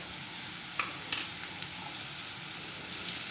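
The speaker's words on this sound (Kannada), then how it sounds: "ತೆಂಗಿನಕಾಯಿನ ಸ್ವಲ್ಪ ಫ್ರೈ ಮಾಡ್ಕೋಬೇಕು" Coconut powder sizzling in a pan with fried onions and a little salt for a drumstick leaf stir fry, a steady soft crackle with a few sharp clicks of a spoon stirring.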